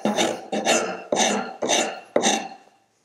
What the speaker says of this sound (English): This is a half round file, and for ages, they've been referred to as a cabinet maker's rasp.